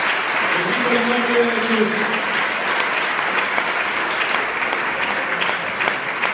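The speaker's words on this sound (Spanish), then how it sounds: "Denle un aplauso al Señor Jesucristo, por favor." A church congregation applauds steadily and loudly throughout, a dense wash of clapping with a voice speaking over it near the start.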